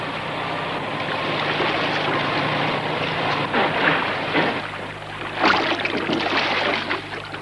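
A boat's engine drones steadily out on open water, a low continuous hum under broad wind and water wash that swells briefly near the end, with no voices.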